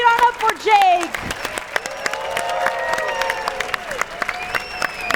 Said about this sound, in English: Come on, cheer on up for Jake.